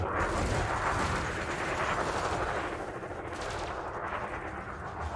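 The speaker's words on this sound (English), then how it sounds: "I'm sure my chain gun will do damage, but not as much as the laser." Spaceship chain gun and lasers firing in Elite Dangerous, a dense continuous burst of rapid weapon fire with rumbling blasts, loud and sustained, easing slightly midway before picking up again.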